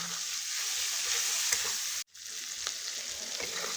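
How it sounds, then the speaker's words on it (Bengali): Ground mustard paste fries and is stirred in hot mustard oil, giving a steady close sizzle with faint scraping of the spoon. A brief dropout breaks the sound midway. "এবার সর্ষে বাটাটা 1-2 মিনিট এমন করে নাড়াচাড়া করে একটু হালকা করে ভেজে নিব।"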